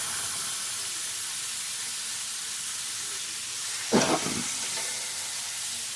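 Fat sides of a steak searing in a hot pan, a loud continuous sizzling hiss held close, with a brief sharp flare of sputtering near the end as the meat is pressed down.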